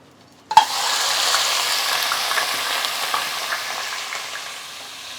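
Mutton frying in hot oil with bay leaves in a pressure cooker: a sudden hiss as the meat hits the pan, then a steady, close sizzle that slowly fades over several seconds, no talking.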